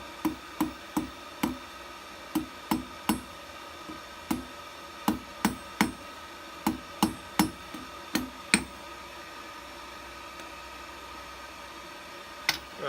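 A smaller blacksmith hammer forging a hair barrette rings in sharp metallic strikes, about twenty over thirteen seconds in loose irregular bursts, close and clear with no talk.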